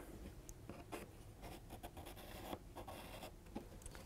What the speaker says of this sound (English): Trace the flower shape.